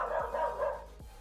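A dog barks indoors in two quick, moderately loud yelps about a second apart, with a steady low background hum and no speech.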